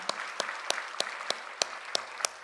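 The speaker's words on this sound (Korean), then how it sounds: "박수해 주세요." In a church, about eight sharp, evenly spaced claps ring out at a slow steady rhythm, fairly faint and sparse, like a few people clapping in time.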